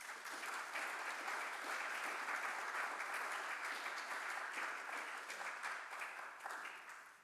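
An audience applauding to welcome a lecturer, a dense, steady clapping that holds for several seconds before thinning out at the end.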